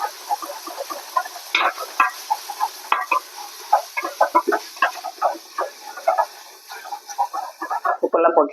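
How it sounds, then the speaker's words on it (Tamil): A spoon stirs salted fish biryani in a pot, producing irregular clinks and scrapes in quick bursts with a soft sizzle underneath, fairly close and moderately quiet. "உப்பெல்லாம் போட்டு நல்லா கிளறி விட்டுக்கலாம்."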